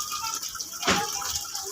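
Strong tap water gushes and splashes while laundry is washed by hand, a continuous rushing flow with a brief louder splash near the middle.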